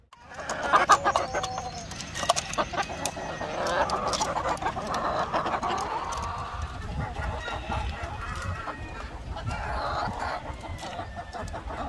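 Layer hens clucking and squawking on a farm while being fed an alternative feed, busy overlapping calls with occasional louder cries, close and continuous.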